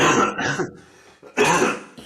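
Two harsh, chesty coughs, close and loud, separated by a short pause.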